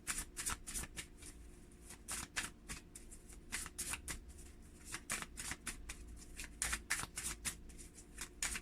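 A deck of tarot cards is shuffled close up, the quick riffling bursts repeating in an irregular rhythm and heard alone and crisp.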